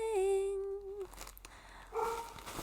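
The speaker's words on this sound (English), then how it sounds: "The dogs are having a field day today. They're just barking at everything." Several dogs bark and yip in a high, strained burst early on, then quieter scattered sounds and a second short round of barking near the end.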